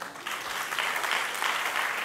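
An indoor audience at a company event claps together in a brief, steady burst of applause that starts quickly and holds at a moderate level.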